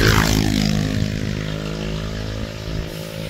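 Loud motorcycle engines passing on a rural road, a heavy droning roar that is strongest at the start and then holds at a steady, slightly fading level.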